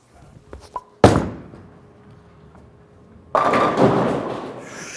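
A bowling ball thuds heavily onto the lane, rumbles for a couple of seconds, then crashes loudly into the pins with a sustained broadband clatter during a bowling match, leaving the 9 pin standing; no talk is heard.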